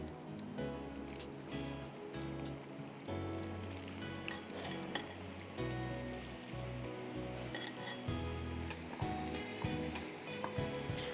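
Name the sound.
French fries frying in oil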